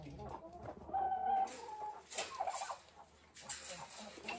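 Chickens, including a laying hen, cluck repeatedly at close range in a backyard coop, with a person moving and speaking nearby as the birds react.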